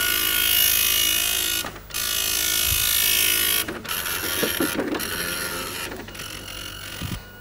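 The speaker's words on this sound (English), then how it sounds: "the impact printer is very fast, but it makes a terrible racket, as you can hear" A 1984-era impact dot matrix printer rattles through a print run in loud buzzing bursts, broken by brief pauses and clicks as the head moves and paper advances, heard close.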